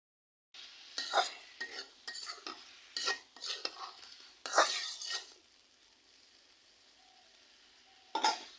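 A potato curry with tomatoes is stirred and scraped in a pan, producing a series of short, close scraping and clattering strokes in irregular rhythm over a faint sizzle, then a pause and one last stroke.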